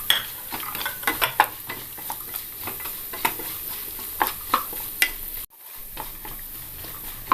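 Nuts and coconut pieces fry in a pan for Vishu rice payasam. A continuous close sizzle runs under frequent sharp spoon scrapes and clinks, then cuts out briefly near the end.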